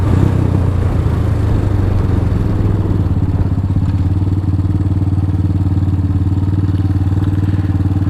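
A Venom X22R motorcycle, a DF250RTS, accelerating up to speed, its loud, close engine drone holding steady and settling into a constant hum after a rougher start.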